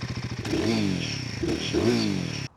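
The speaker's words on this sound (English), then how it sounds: "It's quite a throaty little beast, isn't it?" A Royal Enfield Guerrilla 450 motorcycle exhaust idles close by with a deep, throaty burble and two brief revs before cutting off abruptly.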